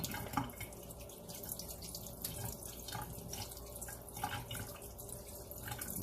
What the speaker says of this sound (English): So just wash them off really good.